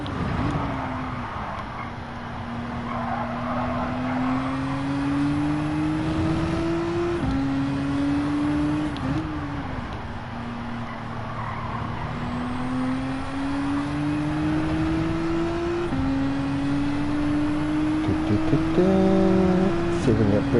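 Car engine in Gran Turismo 7 racing on Trial Mountain, a steady droning note rising through each gear then dropping at shifts, with a player talking intermittently over the engine throughout.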